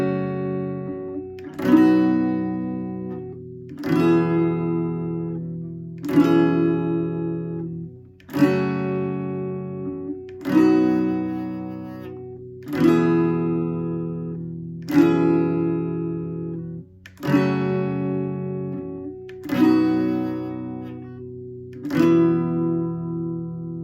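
Acoustic guitar strumming chords, about ten evenly spaced strums that each ring out and fade, played close and clear with no voices.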